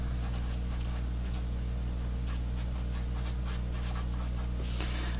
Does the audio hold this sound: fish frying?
no